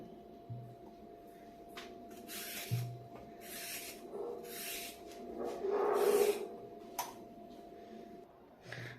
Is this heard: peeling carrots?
yes